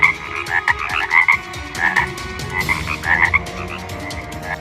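A chorus of frogs croaks in a steady, overlapping pattern, loud and close, used as a sound effect in a church drama about the Israelites' exodus from Egypt, with no voices over it.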